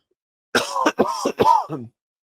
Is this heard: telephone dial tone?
no